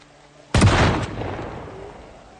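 A single loud gunshot in the zombie survival video game Project Zomboid, a sharp crack followed by a booming tail that slowly fades, with no talk.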